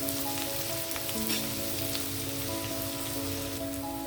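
Onions fry in a pan for a country chicken cashew curry, a fairly faint, continuous crackle and sizzle with a low hum underneath and no voices.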